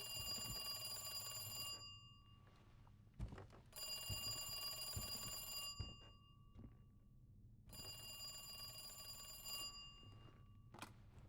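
A telephone rings in Resident Evil 2, with three long metallic bursts of an electronic ring separated by short pauses and a few soft clicks and thuds, fairly faint, with no voices.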